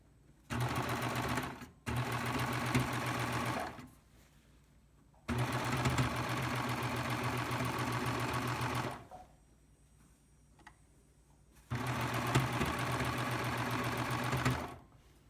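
A Baby Lock serger stitches a lace inset seam with a lace applicator foot, running in three rapid, steady whirring bursts separated by quiet pauses, close and clear with no talking.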